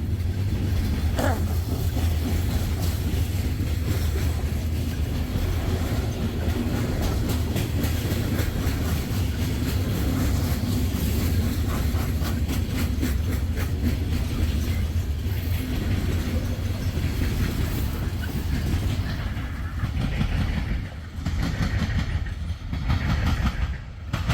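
CSX train rolling past on the rails, a loud, sustained rumble with rhythmic wheel clatter over several seconds that fades slightly toward the end.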